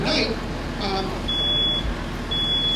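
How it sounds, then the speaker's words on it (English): A smoke alarm's high, steady electronic tone sounds in two bursts during a mock dorm room fire, a short pause between them, over a constant low background rumble with faint voices. "See how quick that smoke alarm activates?"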